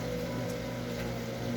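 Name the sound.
rain falling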